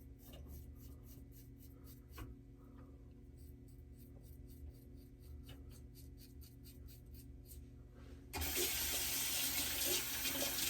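A razor rinsed in a sink: faint scraping strokes at first, then running tap water gushes in loudly near the end, close by and with no talking.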